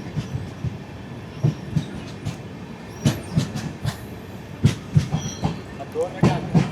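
The 16337 Okha–Ernakulam Express runs on the Konkan Railway, its wheels clattering in uneven clickety-clack bursts with occasional squeals, heard from on board under a steady rumble.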